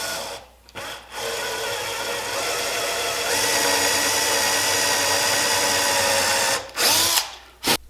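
A power tool mortises a recess in wood for a hinge catch on a custom wine box, a loud steady whining drone that holds for several seconds between brief pauses and a final short burst.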